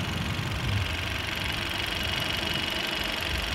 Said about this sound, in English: So now you can actually hear that turbo a little bit.